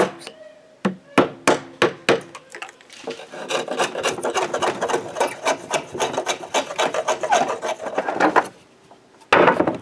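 Waste wood is knocked and chiselled out of cedar table tenons: a run of sharp, separate taps gives way to dense, rapid rasping and chopping, close and loud, ending in a brief pause and one final hit.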